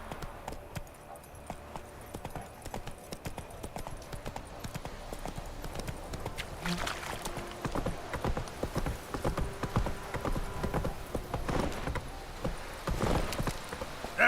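Roach, Geralt's horse in The Witcher 3, gallops with rapid, rhythmic clip-clop hoofbeats that build and stay loud and close over a low ambient game background.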